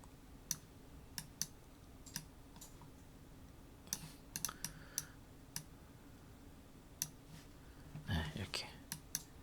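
Computer keyboard key presses and mouse double-clicks during digital sketching work: sparse, crisp clicks in irregular bursts, close and fairly quiet over a low background hum, with a quick cluster of taps near the end.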